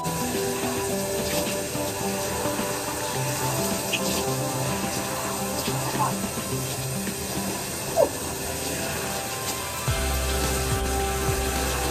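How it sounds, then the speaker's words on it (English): Steady hiss of shower water running, a continuous spray heard close up, with a brief knock around the eighth second and a low hum joining near the end. "once you are in the shower"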